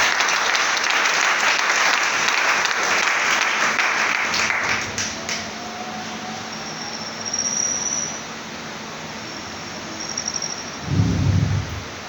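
A church congregation bursts into loud, dense applause for several seconds, then the clapping dies away into a quiet room with a faint final patter.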